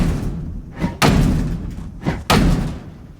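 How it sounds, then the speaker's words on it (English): A pickaxe strikes a door in the Project Zomboid video game. There are two heavy, close thuds about a second apart, each led by a softer knock, and no voices. "luckily picks are really good at going through doors"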